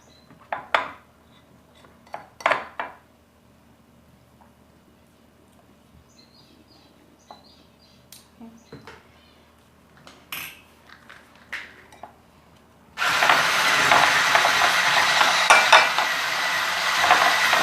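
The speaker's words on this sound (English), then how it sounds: "Mixing it up, whipping it up." Lavender body butter is scraped from the sides of a cup and whipped, giving sparse clinks and scrapes of a utensil on the cup, then a steady, loud whirring whip for the last few seconds.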